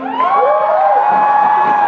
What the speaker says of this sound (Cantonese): 俾啲掌聲啊